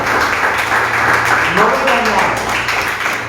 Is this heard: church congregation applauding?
yes